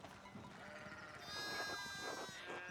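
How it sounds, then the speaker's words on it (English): Sheep bleating in the medieval village of the game Pentiment, several wavering bleats rising and overlapping over a soft ambient backdrop, growing louder partway through. "so many sheep."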